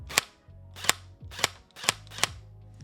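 Five sharp plastic clicks from an Apexinno haptic gun trigger for Meta Quest 3, snapping evenly about half a second apart, close and fairly crisp.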